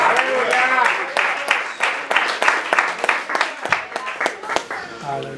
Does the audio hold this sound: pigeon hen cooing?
no